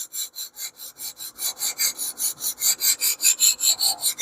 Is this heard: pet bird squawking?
no